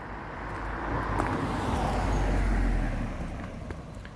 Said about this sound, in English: We're getting to the end of the road, so all the cars are slowing down now as well.